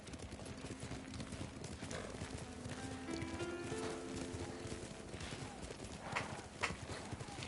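Steady clip-clop of horse hooves trotting along in Ghost of Tsushima, with a horse neighing partway through, layered with ambient game sound and faint voices.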